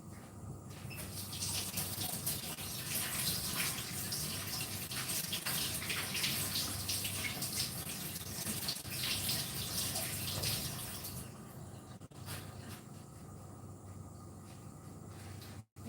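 An onion washed under a running kitchen tap while cooking potatoes with vegetables and rice, with a steady rush of water and soft splashing and patter that cuts off near the end, close and continuous.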